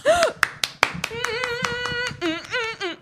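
A few sharp hand claps from an audience in Las Vegas ring out near the start, then a voice talks over the room and dominates the rest.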